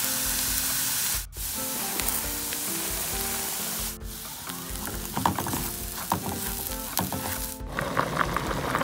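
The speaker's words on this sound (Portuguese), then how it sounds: "Cebola, alho, cenoura, azeite, para fazer o arroz." Onion, garlic and carrot sautéing in olive oil for rice, a steady close sizzle throughout with spoon scrapes and clinks against the pan, no talking.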